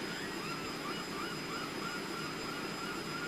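A helicopter flies overhead in a children's story about Harold the Helicopter and Percy, giving a steady loud engine and rotor roar with a constant high whine that holds through the clip without talk.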